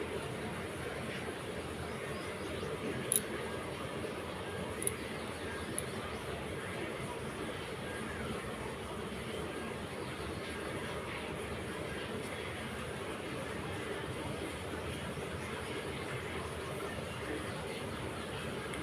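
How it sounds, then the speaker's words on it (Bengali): A train pulling into a station heard as a distant, faint low rumble that rolls on steadily, with a few brief sharp clicks over the top and murmuring voices mixed in. "আর এই দেখো ট্রেন ঢুকছে।"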